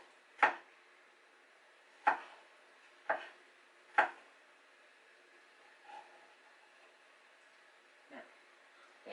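Garlic cloves being sliced paper thin with a knife on an off-grid camp cooking setup: four crisp, evenly spaced chops up close, followed by a few softer, fainter taps, with quiet background between strokes.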